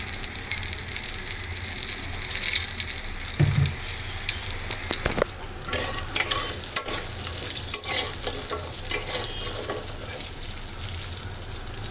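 Dried pumpkin lentil dumplings fry in oil in a wok with a continuous hissing sizzle, broken by stirring clatter and a short splash of running water partway through.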